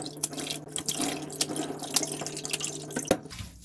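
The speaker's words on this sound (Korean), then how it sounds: "파래는 그냥 손으로 살랑살랑 이렇게 씻으면서요. 한세번 정도는 그래도 헹궈 주셔야 돼요." Green laver seaweed swished and rinsed by hand in a sink of water, with steady splashing, sloshing and dripping close by, punctuated by a few sharper splashes and set over a faint constant hum.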